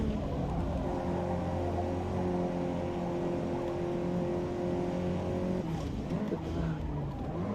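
A racing car driven in the video game Forza Motorsport roars with a steady, loud engine drone and sustained harmonic whine, shifting pitch near the end as tires scrub under hard cornering.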